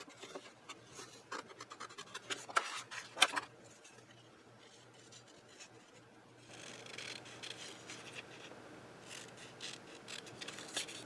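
Scissors cutting through paper for an art journal, close and fairly quiet, with irregular crisp snips and rustling paper that cluster early and continue more softly later.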